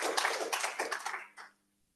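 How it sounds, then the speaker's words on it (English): Lecture audience applause for a public talk: a short burst of close hand-clapping that tapers off and stops after about a second and a half. "let's maybe just give one more round of applause"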